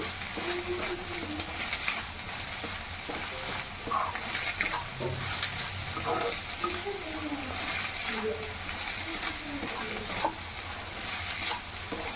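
Egg bhurji sizzles and fries steadily in a pan while being stirred and turned, a continuous close crackle with light scraping, and a voice talks over it.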